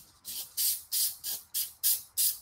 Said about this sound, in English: There, spraying better. Earlier it was clogged,